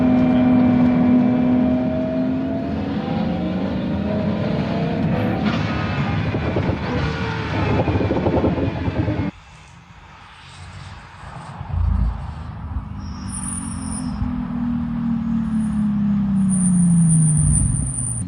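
A Pagani Huayra Codalunga engine roars loudly as the car accelerates hard, pitch climbing through a gear, then drops away at a shift before building again with rising whine from inside the cabin.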